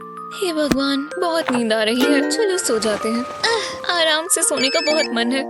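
A melodic mobile phone ringtone chiming loudly and continuously close by, its repeating tune playing under someone speaking.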